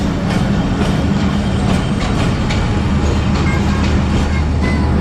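The 129up Thal Express passenger train running from Rawalpindi to Multan, a loud continuous rumble with a steady low drone and faint rhythmic clicks throughout, heard up close.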